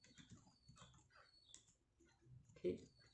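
Keyboard keys tapped in short irregular bursts to send a message to a WhatsApp bot, faint and close, with one louder knock near the end and low background murmur.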